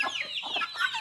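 A flock of hens clucks continuously at close range while corn is thrown to them in a rural yard, dense and unbroken, with no talking.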